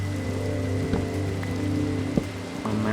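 Rain falls in a steady, even patter with a few louder drops, mixed with a low constant hum underneath and no voices.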